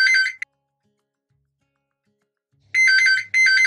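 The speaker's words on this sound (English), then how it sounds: "This is going to be another nuisance call." A house phone rings with an electronic ringtone: a short burst, nearly three seconds of silence, then two more close bursts of ringing, loud and alone with no talk.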